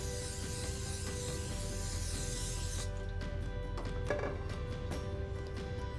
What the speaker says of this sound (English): go ahead and put some spray on it